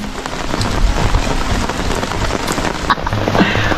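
Heavy rain pouring down steadily outdoors, a loud, continuous dense hiss of drops on surfaces with no break and no voices.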